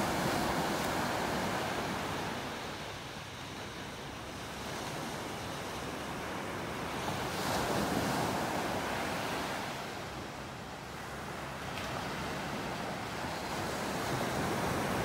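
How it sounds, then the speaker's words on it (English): Ocean surf rolls onto a beach at a state park in North Naples, Florida, a broad steady wash of breaking waves that swells and eases over time, with wind buffeting the microphone and no voices. "Beautiful beach here at Del Norwegians."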